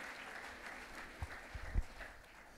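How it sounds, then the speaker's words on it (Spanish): A church congregation at a worship service claps for Jesus, a soft, fairly distant patter of applause with a few louder thumps mixed in. "Denle un fuerte aplauso a Jesús"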